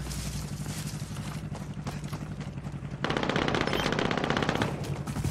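Rapid automatic gunfire from a shooter video game, loud and continuous, with a burst that swells heavier partway through over steady game background noise.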